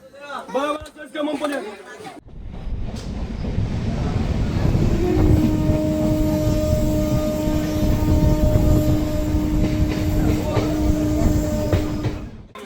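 Local train running from Sealdah toward Kakdwip, heard from inside as a loud, steady rumble with rattling, faint clickety-clack and some high squeal, after a person talking at the start.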